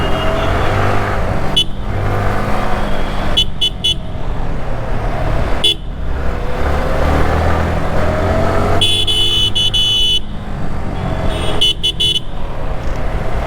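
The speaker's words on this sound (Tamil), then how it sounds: "ஆனால் கோயம்புத்தூரில் உண்மையான டிராஃபிக்குங்க." Busy city road traffic in Coimbatore, India: a constant roar of cars and motorcycles passing close by, punctuated by repeated short car horn toots, some in quick clusters.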